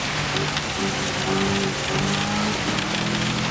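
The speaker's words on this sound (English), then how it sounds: "I think it is still raining, although the wipers aren't going, but there is definitely still a lot of standing water on the track." Rain falling on a wet racing circuit with standing water during a Gran Turismo 7 GT2 endurance race, a steady broadband hiss with faint tonal engine hums from cars underneath, continuous and fairly loud.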